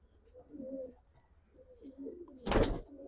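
A pigeon coos quietly nearby in a few soft, low warbling phrases, followed by a short, sharp rustle or flutter near the end; no speech.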